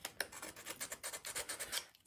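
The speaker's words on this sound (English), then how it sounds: "I'm just giving a little bit of a sand on these sharp little edges" Sanding sharp edges smooth by hand: quick, close rasping strokes rub back and forth in a rapid uneven rhythm for about two seconds, quiet and with no voices.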